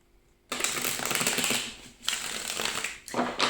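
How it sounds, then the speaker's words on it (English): A final riffle shuffle of a tarot deck, dense papery rattling in three quick close bursts with brief pauses between, loud and alone. "Okay, Scorpio, one last shuffle."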